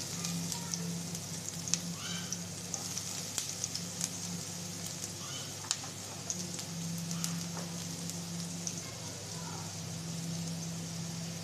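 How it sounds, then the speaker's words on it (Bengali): Chopped onion fries in mustard oil, a steady soft sizzle and crackle with small pops scattered through it and no speech. "পেঁয়াজটা লাল লাল করে ভেজে নেবো"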